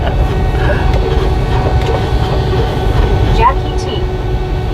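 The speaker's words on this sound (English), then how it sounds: "yet another train." A freight train with two distributed power units rolls past during a windy drive from Dodge City, Kansas toward Texhoma, Oklahoma, giving a steady, loud rumble under continuous road and wind noise.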